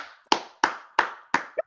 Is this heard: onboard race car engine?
no